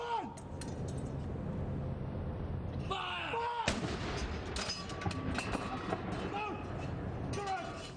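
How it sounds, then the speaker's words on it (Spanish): A gun salute of more than 40 cannon shots at Buckingham Palace rings out in a state welcome, deep booms with echoing tails arriving at intervals beneath a person speaking. "salva de más de 40 cañonazos"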